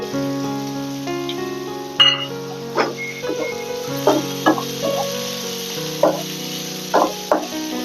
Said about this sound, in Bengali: একটু নাড়াচাড়া করে নিচ্ছি, পেঁয়াজ, কুচনো পেঁয়াজ